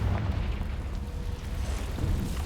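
A fiery blast from the Confringo spell in Hogwarts Legacy erupts with a deep rumbling boom that rolls on for a couple of seconds, heavy at the low end and fairly loud.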